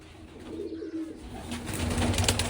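Several pigeons in a coop coo in low, rolling phrases that grow fuller and louder toward the end, with some rustling and faint chirps mixed in.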